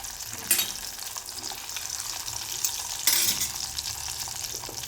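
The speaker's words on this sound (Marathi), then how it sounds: "आता आपण हे कंद थोडेसे फ्राय करून घेणार आहोत" Purple yam (kand) pieces sizzle in hot oil in a kadhai, a steady close crackling fry with a few louder stirring bursts and no talking.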